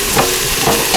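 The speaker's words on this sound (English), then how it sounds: "I cubed up my pork over here. Add that. A little sizzling going on there" Cubed pork sizzles in the hot base of a pressure cooker, a dense, steady crackling hiss that fills the short moment, loud and close, with no voices.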